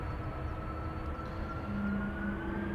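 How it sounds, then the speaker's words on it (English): A Delta Airlines Airbus A330-300 departing Amsterdam Schiphol roars steadily at moderate distance, its engine whine holding tonal lines that rise gently near the end. "Delta Airlines Flight 163 on its way to Minneapolis, Minnesota. Here we go. A330-300."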